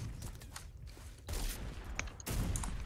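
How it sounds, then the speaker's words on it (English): Video game gunfire crackles in scattered bursts and quick volleys, some near and some farther off, against low background rumble with no talking. "Hey, I heard guns."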